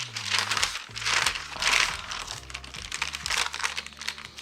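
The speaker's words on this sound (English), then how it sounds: "first listen to the sound of this paper." Sketchbook paper pages are handled and crinkled up close, with repeated rustling bursts that rise and fall with no talking.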